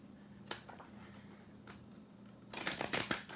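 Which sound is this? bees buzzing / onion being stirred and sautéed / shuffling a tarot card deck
shuffling a tarot card deck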